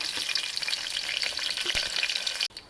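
Fennel and mustard seeds fry in hot oil for tomato rice, giving a steady close crackling sizzle with scattered pops and stirring clicks, which cut off abruptly near the end.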